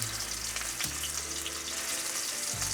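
A steak sears in a hot frying pan with a steady, hissing sizzle. The sound is continuous and fairly faint, with a low hum beneath it and no voices.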